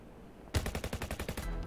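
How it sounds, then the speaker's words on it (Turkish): A rapid burst of about ten gunshots rings out in Internet Cafe Simulator 2, sharp evenly spaced cracks after a quiet start, loud and close with no talking. "Biri silahla patladı."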